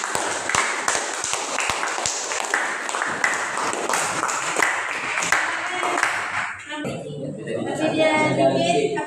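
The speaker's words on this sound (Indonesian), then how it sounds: "Beri aplaus untuk kelompok 4" Classroom group applauds for the fourth presenting team, a dense burst of many hands clapping that runs steadily for several seconds, then thins out as a voice begins speaking near the end.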